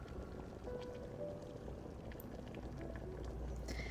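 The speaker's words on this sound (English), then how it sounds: "meatballs swirl in the hot pot" A hot pot of meatballs boils in the video game Love and Deepspace, giving a steady, dense bubbling and simmering that stays close and even throughout.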